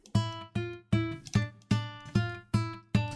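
A synthesized melody pattern built in FL Studio for a Russian minus track plays eight evenly spaced plucky notes with bright harmonics and short decays, alone and clear.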